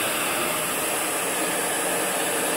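A Eureka ReadyForce Total vacuum cleaner runs on carpet with a loud, steady, unbroken whooshing roar held close for the whole stretch, with no voices.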